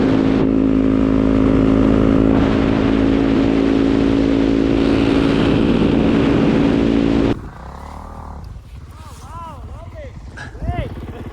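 Two snow bikes ride across a frozen lake, engines droning loud and steady close by for about seven seconds, then dropping to quieter idling and passing revs with brief rising whines toward the end.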